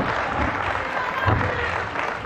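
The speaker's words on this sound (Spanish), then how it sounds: "Fuerte el aplauso." A gathered audience at a Spanish-language community event breaks into a short, even wash of applause, steady and moderately distant throughout.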